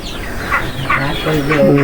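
Chickens cluck repeatedly close by, a busy village farmyard chorus with ducks also kept, short rhythmic calls and a faint voice in the background.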